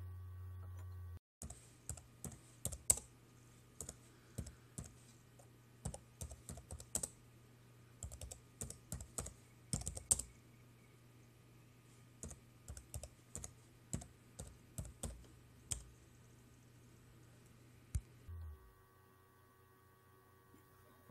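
Clicky keystrokes on a computer keyboard while typing a command in a Linux terminal, bursts of quick taps and pauses over a faint mains hum, close and fairly quiet.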